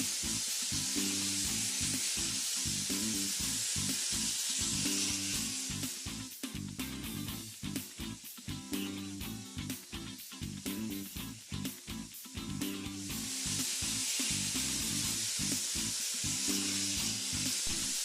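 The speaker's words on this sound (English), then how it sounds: "Notice the blaster on the right using the Speed Blast Australian Garnet" An abrasive blasting nozzle sprays Speed Blast Australian Garnet onto a surface with a continuous, dense hiss that carries steadily throughout, over a rhythmic low background beat.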